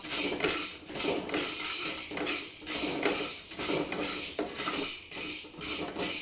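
Dry cloves for garam masala rattle and scrape in a pan as they are stirred and roasted, a busy, repeated clatter of metal and spice.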